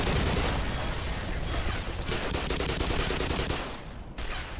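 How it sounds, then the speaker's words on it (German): Dense gunfire and explosions in the video game Black Mesa, a loud, continuous rattle of rapid shots and blasts that goes on without a break, with a brief dip near the end. "Hier explodiert alles."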